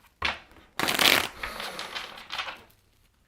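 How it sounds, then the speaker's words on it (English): A deck of tarot cards is shuffled by hand, close and loud, with two riffling bursts and a longer ruffling run followed by brief handling; no voices. "Last shuffle."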